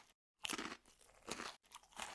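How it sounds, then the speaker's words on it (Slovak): Baked Hermelín cheese chips crunch loudly and close up as they are bitten and chewed, with several crisp, brittle bursts separated by short silent pauses. "A teraz počúvaj ten chrumkavý zvuk."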